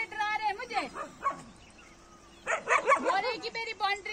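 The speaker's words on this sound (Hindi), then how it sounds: "आपके कुत्ते डरा रहे हैं मुझे" Dogs on a dirt path near a village fair bark and yip in rapid bursts, close and fairly loud, with a quieter gap midway before another flurry; voices are heard around them.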